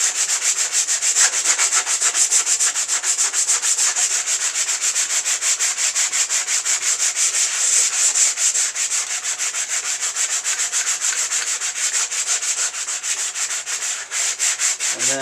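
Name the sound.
sanding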